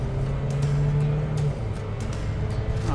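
A car drives along with a steady engine drone and a clear rising tone as it accelerates, road and tire noise underneath, heard from inside the cabin without speech.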